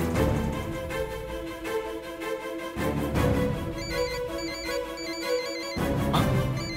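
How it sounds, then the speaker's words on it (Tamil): A phone rings with a repeating electronic ringtone melody, steady and clear in the foreground with no talk. "உனக்கு ஃபோன் வந்திருக்கு."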